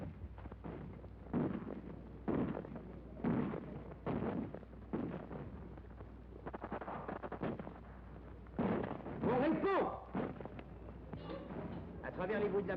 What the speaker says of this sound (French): Des rafales traversent les places.